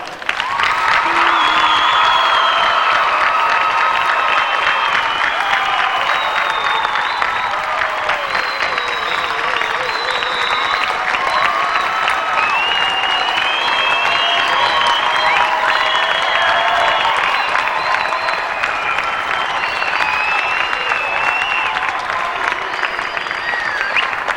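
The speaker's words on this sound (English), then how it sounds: "join me again in giving these people a big round of applause" An audience at a state leadership conference applauds continuously, a dense, steady clapping from a large crowd with scattered whoops, lasting well over twenty seconds without talk.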